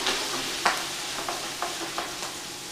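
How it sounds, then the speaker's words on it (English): Peeled, deveined 21/30 shrimp sizzle in a hot pan, a bright continuous frying hiss with a few sharp pops and stirring scrapes, close and alone. "we're going to put our shrimp in. Now this shrimp is 2130 shrimp. It's already peeled into vein. That pan is nice and hot."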